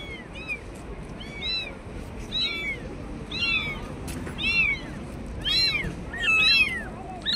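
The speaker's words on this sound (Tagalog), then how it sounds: "Ay, may mga maliliit na pusa oh." Several small kittens meow repeatedly in high, thin cries at a seaside spot near a Starbucks, the calls coming in clusters over steady outdoor background noise.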